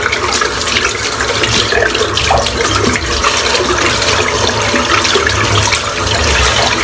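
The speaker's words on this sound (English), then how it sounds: "we'll just rinse this brush out while that's sort of doing its business" A shaving brush rinsed under a running tap in a bathroom sink after a head shave, with loud, steady rushing and splashing water close by for the whole stretch and no talking.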